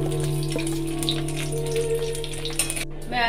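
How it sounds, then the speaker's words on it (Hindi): Cubes of paneer coated with cornflour and salt fry in a pan with a steady close crackling sizzle over a constant kitchen hum, ending with a brief clatter and a clink. "मैं पहले पुनीत फ्राई कर लूंगी।"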